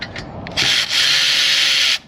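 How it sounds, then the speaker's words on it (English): A power tool run in reverse to back out a sensor on a vehicle in a repair shop, giving a loud harsh whir after a couple of short bursts, running steadily for over a second before cutting off. "2 modes on your power tools, in or out."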